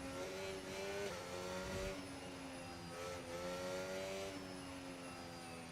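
A race car engine in the F1 25 racing game drones steadily at high revs with shifting pitch and gear changes, moderately distant and without speech, a faint tire squeal in the mix.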